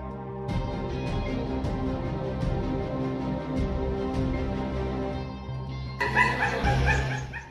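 A dog perched on an air-conditioning vent barks and yips repeatedly in a steady run of sharp calls, near and fairly loud over a constant background hum, with a louder burst of noise near the end.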